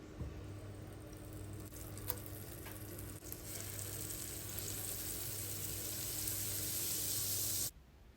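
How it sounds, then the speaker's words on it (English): Butter sizzles steadily in a hot pot before chicken sausage goes in, a dense even frying hiss that brightens and grows louder toward the end, then cuts off abruptly. "Now let's add some butter to my hot pot."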